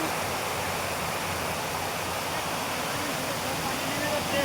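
The Brahmaputra river at a park in Mymensingh surges past in a loud, steady, unbroken rush of water.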